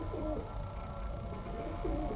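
A female Sialkoti pigeon cooing softly twice, one low rolling coo near the start and another near the end, faint beneath a steady background rumble.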